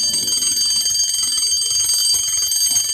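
Continuous high-pitched electronic ringing of a bell or alarm, used as a sound effect in a hospital casualty department story, steady and fairly loud throughout with no talking.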